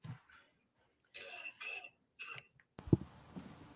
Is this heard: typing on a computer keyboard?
no